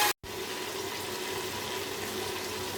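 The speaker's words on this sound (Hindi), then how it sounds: "थोड़ा थोड़ा पानी डाल के हम इसे भूनते चले जाएंगे।" Water added a little at a time to beef browning with spices in a pot for aloo gosht, a steady sizzling, splashing wash that starts after a brief dropout and continues evenly at moderate level.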